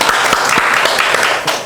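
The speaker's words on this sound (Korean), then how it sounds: "일단 박수 한번." Audience clapping after an architecture presentation, a loud, close burst of applause with a few distinct sharp claps standing out, fading slightly at the end.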